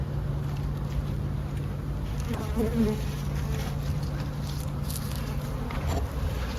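Honeybees buzz in a weak hive holding only a small cluster reaching the top of the frames, a dense continuous drone heard close up, with a few faint taps and rustles over it.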